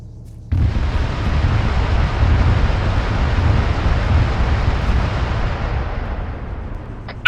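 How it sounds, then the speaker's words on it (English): Mine-clearing line charge rope detonating in a long rolling blast, a sharp onset followed by a sustained loud rumbling roar that holds for several seconds with no voices. "It was doing a detonation, but it stopped, kept going, and then it continued up at the top end"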